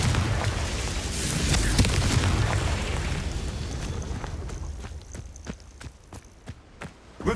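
Confringo fire spell in Hogwarts Legacy: a loud, broad burst of explosive rumble that fades into scattered sharp knocks and thuds.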